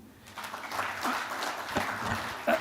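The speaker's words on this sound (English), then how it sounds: "A round of applause." Audience applause at a bank's quarterly financial results event in Kenya, honouring a long-serving regional manager; steady clapping from a seated crowd at moderate level, briefly swelling near the end.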